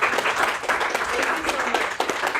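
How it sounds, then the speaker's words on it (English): Audience in a gallery gives steady, dense applause after an artist's lecture, a continuous round of clapping at moderate level throughout. "let's give another round of applause"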